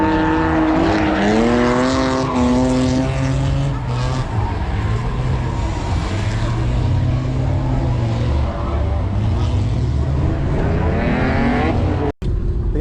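Cars drifting at Bimmerfest, BMW event, with loud sweeping engine revs and tire squeal rising and falling in repeated waves, a busy outdoor scene with some talk underneath.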